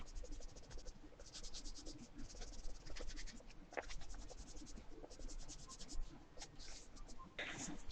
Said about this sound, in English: So the next thing I'll do is erase it.